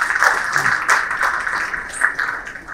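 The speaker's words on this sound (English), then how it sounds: "Huge round of applause for" A large audience at a corporate Samvardhana Motherson Group event applauds as the chairman is called to the stage, a steady wash of many hands clapping at moderate distance, sustained throughout without any speech.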